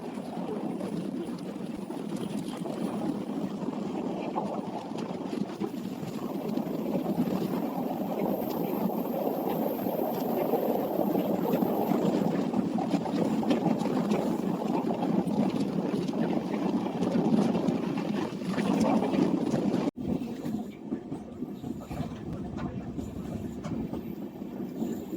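An LHB-coach Simhadri Express passenger train rolls steadily between Guntur and Vijayawada divisions, a continuous loud rumble and rushing roar heard from onboard, with a brief sharp break near the end.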